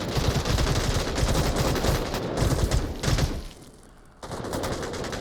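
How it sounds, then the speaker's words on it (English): Dense automatic and rapid gunfire from many weapons in VR shooter Onward, rounds striking wood, sustained and loud with a brief lull before firing resumes. "A lot of bullets coming in through the wood."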